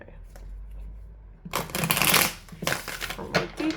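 Tarot cards shuffled and handled close by, a quiet stretch giving way to dense bursts of riffling and slapping card noise that come in uneven waves.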